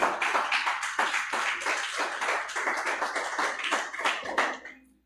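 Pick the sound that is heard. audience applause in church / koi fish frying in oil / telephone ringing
audience applause in church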